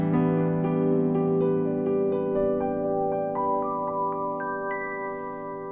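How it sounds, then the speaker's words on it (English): A right-hand piano arpeggio rings out with the sustain pedal held down, rising notes stacking and blurring into a lingering wash over held low tones, played close and steady with no talking. "And I will keep the pedal down and sound like this."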